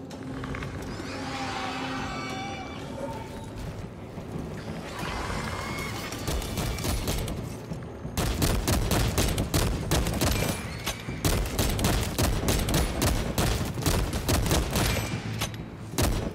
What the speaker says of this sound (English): Yes, bolt pistol.